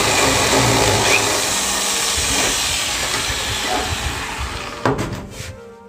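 A drill bores a hole straight through the middle of a bolt while a ceiling fan die is being made. It gives a loud, continuous harsh grinding whir, close by, that cuts off abruptly near the end.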